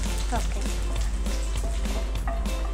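Four to five garlic cloves sizzle in hot oil in a kitchen pan, a steady close frying hiss running throughout with occasional taps and stirring clinks, under background music.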